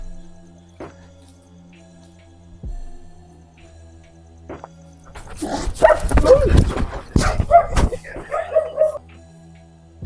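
A dog outdoors at night lets out a burst of loud, close barks and yelps midway, after quiet background hum and a few faint knocks.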